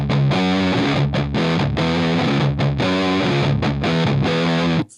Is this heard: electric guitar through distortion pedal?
yes